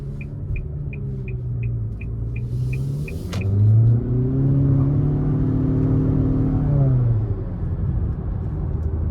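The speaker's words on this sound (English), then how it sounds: "take this 2023 Nissan Altima SR VC-Turbo out on the road for a quick test" A 2023 Nissan Altima SR VC-Turbo with a turbocharged engine drives on the road: a steady cabin rumble with a ticking turn signal at first, then the engine's hum rises and falls as it accelerates.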